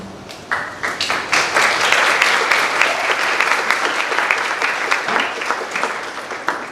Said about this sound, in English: please hold your applause until the very end